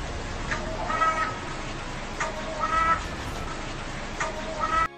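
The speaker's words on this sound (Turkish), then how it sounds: "Sesi pek de hoş olmayan bir hayvan olan kargalar pek çok insan tarafından sevilmez." Crows cawing in repeated harsh calls, three clear bursts spaced evenly over a steady outdoor background, fairly close and loud.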